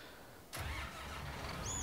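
A tractor engine in the farming video game Farming Simulator 19 cranks and catches abruptly, then settles into a low, steady idle rumble, close and fairly loud, with no talking.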